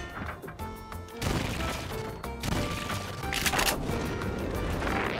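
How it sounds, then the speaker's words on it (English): Explosions and crashing destruction in the Wreckateer video game come as a dense series of loud bursts, smashes and clattering debris one after another, with a brief quieter gap between them. "then he'll make a bigger explosion"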